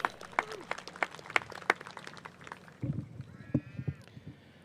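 Scattered audience applause at a high school commencement ceremony, a patter of claps that thins out after a few seconds as a voice and quieter scattered sounds take over.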